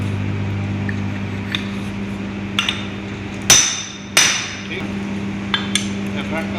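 A hammer drives a bearing into an electric fan motor during an overhaul, giving two loud ringing blows and several lighter taps over a steady low hum.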